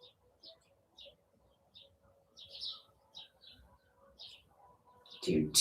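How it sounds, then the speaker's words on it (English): Birds chirp outside an open window in short, repeated tweets spaced irregularly, fairly faint and distant, ending with a brief louder knock or rustle nearby. "You might hear some birds chirping today."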